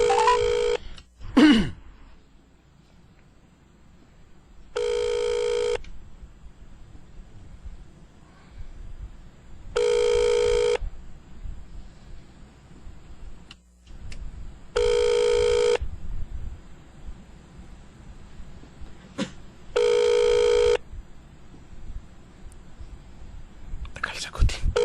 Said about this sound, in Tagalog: Tawag ako sa bahay namin.